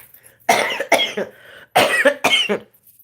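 Four harsh, explosive coughs in two pairs, close and loud, with brief quiet gaps between them.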